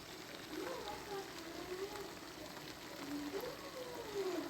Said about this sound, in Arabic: رح اضلني اقليهم، يعني كل شوي بقلبهم لحتى البصل رح يرخي مزبوط